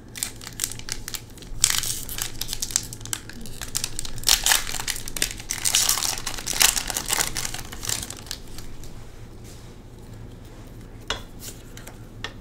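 Pokémon Paldean Fates booster pack torn open and its foil and cards handled, close crinkling and crushing rustles in irregular bursts, with no talking.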